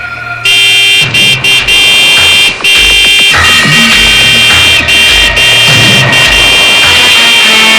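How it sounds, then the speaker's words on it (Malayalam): A loud vehicle horn blares almost continuously, cut by a few brief breaks, over a low engine rumble. "നീ ഹോണടിച്ച് വണ്ടി വിട്"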